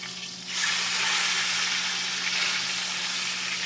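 Hunk of steak sizzling on a campsite cooking setup, a sudden loud hiss rising after a brief quieter start and then holding as a steady, close, crackling sizzle over a low hum.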